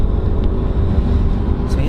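Wind rushing through a partly lowered car window while driving, a loud, steady low roar and buffeting that stays constant under the hum of the moving car.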